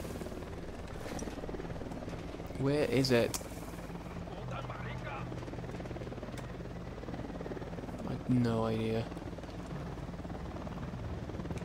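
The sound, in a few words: helicopter flying nearby in the video game Ghost Recon Wildlands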